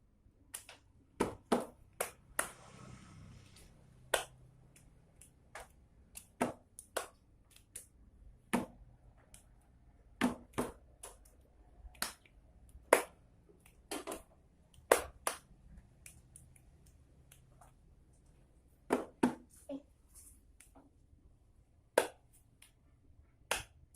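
Sharp isolated claps, table taps and finger snaps ring out one at a time in a speech-therapy rhythm game, spaced irregularly with short pauses in a quiet room, each hit crisp and close.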